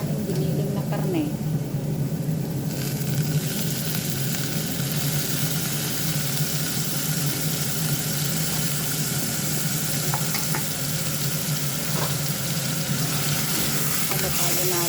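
Ground meat drops into a pan of translucent sautéed onion and fries with a steady, loud sizzle that runs unbroken throughout, with faint stirring scrapes mixed in.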